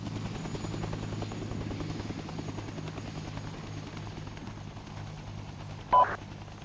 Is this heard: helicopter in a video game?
yes